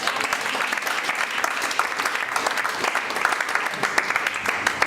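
A church congregation applauding steadily and loudly throughout, a dense continuous clatter of many hands in a large room, with some voices faintly mixed in.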